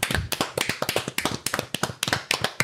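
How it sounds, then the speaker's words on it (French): Clapping for a winner, a few people clapping close by in a quick uneven rhythm of sharp, distinct claps with no talk. "faut applaudir"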